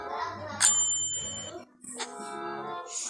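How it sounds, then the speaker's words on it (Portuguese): A bell rung at a snack bar counter in a Minecraft animation, two bright metallic dings standing apart over quiet background sound. "Chegou na lanchonete, vai bater o sino."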